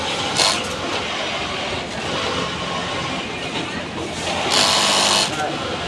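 Brand-new sewing machine running for the first time while hemming fabric, with a loud, continuous, close mechanical whir through the whole stretch and someone talking over it.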